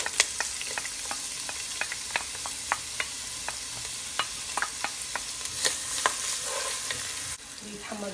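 Onions frying in a pan for rice and peas, a steady close sizzle broken by repeated sharp scrapes and taps of a stirring spoon, with no one talking.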